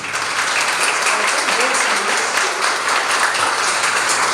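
Audience applause fills a live talk or gathering, a dense, steady wash of many hands clapping at close range for the full length, with faint voices mixed underneath.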